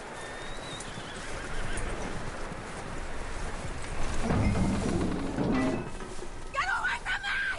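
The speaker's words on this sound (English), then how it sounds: "That looks like a decent horse." Horse in the video game Red Dead Redemption 2 whinnying loudly, with hooves clip-clopping, under a steady outdoor game ambience and low background voices.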